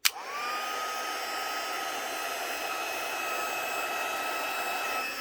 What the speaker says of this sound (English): Heat tool's on. It's going to be a little loud.